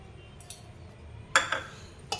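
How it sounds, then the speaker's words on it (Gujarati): A spoon clinks against a bowl while mixing mukhwas ingredients, including gulkand and betel leaf, with three or four quiet, separate scraping taps in an otherwise hushed room. "બધી વસ્તુને આપણે મિક્સ કરી દઈએ છીએ બરાબર"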